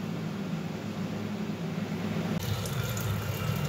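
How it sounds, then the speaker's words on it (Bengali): Water runs steadily from a tap while hilsa fish is washed, a close, constant hissing stream that roughens and splashes more in the last second or so. "ইলিশ মাছটা একটু ধুয়ে নেবো ভালো করে"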